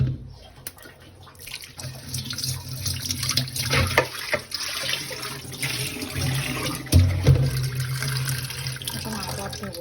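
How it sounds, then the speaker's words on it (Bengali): Food rinsed under a running kitchen tap, water splashing and gurgling steadily into a sink at close range, with surges and dips in the flow as the food is handled. "এখন আবার ধোবো, আরেকবার ধোবো।"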